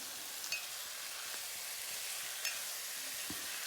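Potatoes fry in a pan for a simple home potato fry, a faint even hiss and sizzle with a few quiet taps of a stirring spoon.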